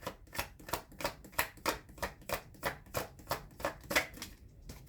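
Tarot cards shuffled in a quick, even rhythm, about a dozen soft riffling snaps close by and fairly quiet, with no talking.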